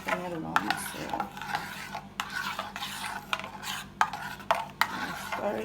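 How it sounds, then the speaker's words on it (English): Cornmeal porridge with coconut milk being stirred in a pot, repeated rhythmic scraping strokes of a spoon against the pot bottom, close and fairly quiet. "I'm gonna stir this in"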